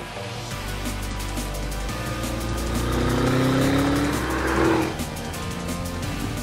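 A 2020 Audi RS7 Sportback engine hums steadily as the car pulls away gently, with a rising whine and faint tire noise partway through, close and continuous.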